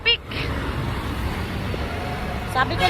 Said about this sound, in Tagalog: Yan o, traffic o.